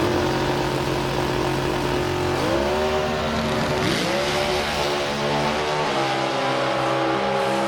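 A truck and a Nostalgia car in a Comp Eliminator drag race at Houston roar at full throttle, loud and continuous, with engine pitch rising and dropping at several gear shifts.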